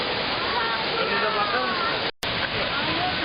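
Düden waterfall in Turkey, its highest drop at roughly 25 metres, pours in a dense, steady roar of rushing water that fills the whole stretch, broken only by one brief cut near the end.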